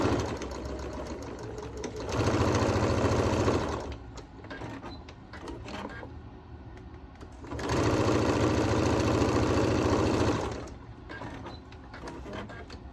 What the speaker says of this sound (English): you can't see me sew, but I will be sewing